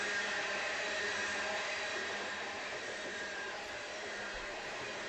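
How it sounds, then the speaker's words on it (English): A loaded KCS grain freight train rolls along Union Pacific track, giving a steady, broad rumbling roar with a continuous hiss that holds level throughout, with no voices. "is a solid, solid KCS grain train on the Union Pacific"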